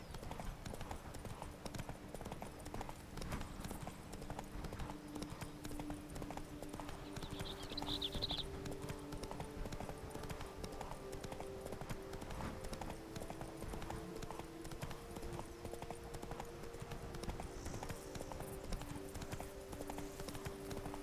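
Roach, Geralt's horse in The Witcher 3: Wild Hunt, gallops with a steady, continuous clatter of hooves close by, under faint game ambience and music with no talking.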